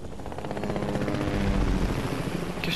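Helicopter in the video game Fortnite, a steady whirring rotor drone held close and fairly loud for the whole stretch, with no talk over it.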